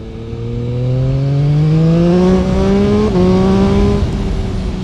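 Yamaha MT-09 SP motorcycle accelerating hard on the road, its loud close engine note climbing steadily in pitch with a brief dip at a gear change before rising again.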